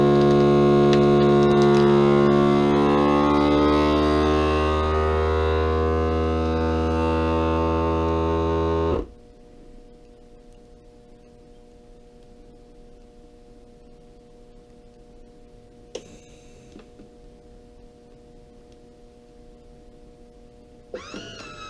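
A vacuum sealer draws air from a plastic bag pulled tight around a box of 9mm ammunition, making a loud steady pump whir for several seconds that cuts off abruptly, followed by quiet background with a couple of brief clicks as it releases.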